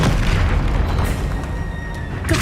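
A deep, loud explosive boom from the Confringo blast spell in Hogwarts Legacy, a sustained low rumble filling the clip with a couple of faint crackling bursts near the end.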